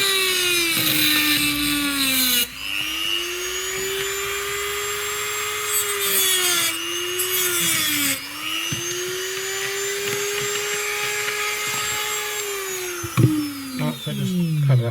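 A hot plastic part from a vintage 1959 Jouef HO scale model wagon being cut, giving a continuous whining, grinding tone that rises and falls in pitch with brief pauses, close and fairly loud with no talk.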